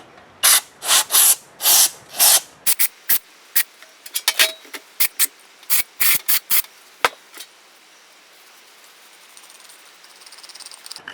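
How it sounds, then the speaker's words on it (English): A series of sharp hissing bursts from an aerosol can of brake cleaner sprayed on a sealed roller bearing, long at first, then quicker and shorter, close by with no talking. "I'm going to use some brake clean and just see if we can't clean out this a little bit"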